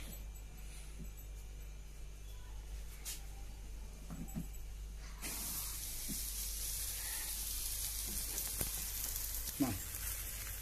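An aloo paratha roasts on a hot griddle with a soft, low sizzle that swells louder halfway through, a few faint clinks and taps over steady background hiss.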